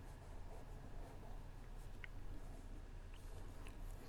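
A pencil sketches on paper in quiet, continuous scratchy strokes, faint and close, with a few light taps between the strokes and no speech over it.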